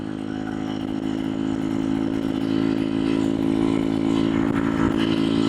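Racing motorcycle engine with a Nibbi PE26 carburetor revs smoothly and steadily close by, a loud buzzing drone that climbs slightly in pitch and holds without a break.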